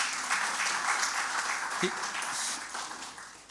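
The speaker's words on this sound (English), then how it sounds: "A round of applause for Professor De again." Audience applause at a law faculty book launch, a dense steady wash of many hands clapping that fades slightly toward the end.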